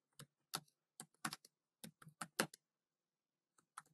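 Someone types on a computer keyboard while entering code, producing close, crisp key clicks in short uneven bursts separated by a long quiet pause near the end, with no talking.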